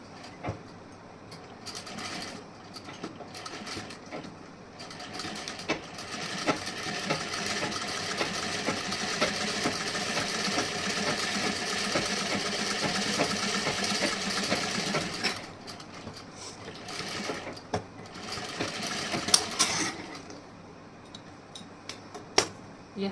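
A sewing machine stitches seams on a princess cut blouse, running in one steady whirring burst for several seconds, then pausing and starting again in shorter runs near the end.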